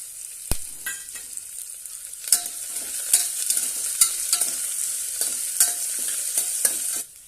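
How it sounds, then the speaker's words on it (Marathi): Slit green chillies hitting hot oil in a pan for a moong pulao, a bright continuous sizzle with a sharp initial crackle and repeated stirring clicks and scrapes, no talking. "तीन चार हिरव्या मिरच्या उभ्या चिरून घेतलेल्या आहेत ते घालूया"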